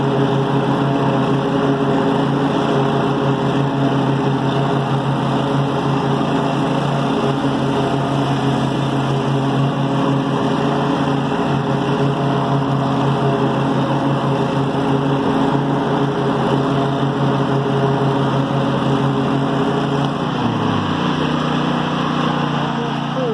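Lawn mower engine holding a loud, steady drone at a constant 3,600 RPM close by for the whole stretch. Near the end the tone briefly dips in pitch, and faint talk sits under it.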